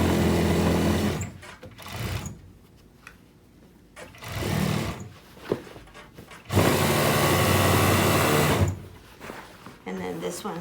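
A serger stitches the seam of a pouf ottoman cover in several loud, close bursts of rapid mechanical whirring, separated by pauses where a person talks.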